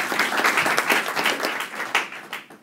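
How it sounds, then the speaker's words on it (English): A room full of attendees at a Drupal conference session on PhpStorm gives steady, dense applause, a continuous close wash of many hands clapping that eases slightly toward the end. "round of applause for Stephen."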